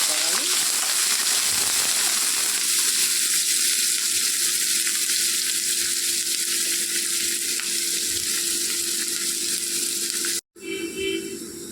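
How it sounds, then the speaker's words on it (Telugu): Sliced onions and fenugreek seeds sizzle steadily in hot oil in a home kitchen, a loud continuous frying hiss with occasional stirring, running throughout before a brief cut near the end. "సన్నగా తరిగి పెట్టుకున్న ఉల్లిపాయలు వేసుకోవాలి"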